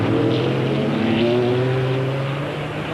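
Trans-Am race cars at Road America in 1990 roar steadily in a sustained, loud engine drone, harmonics rising and shifting as they accelerate past, with the noise easing slightly toward the end.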